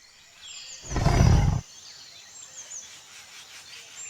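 A tiger gives a single deep, loud roar lasting under a second, with birds chirping softly in the background before and after.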